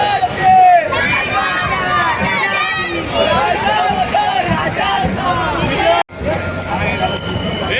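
A Ganesh immersion procession crowd in Navi Mumbai: loud, close hubbub of many voices with shouts and cries layered over one another, cutting off abruptly near the end before resuming.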